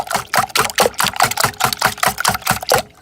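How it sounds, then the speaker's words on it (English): Evaporated milk being beaten with a whisk as the base for homemade macaroni and cheese, giving a fast, steady series of rhythmic sloshing strokes, close and fairly loud, with no talking. "see how I'm beating it with the whisk?"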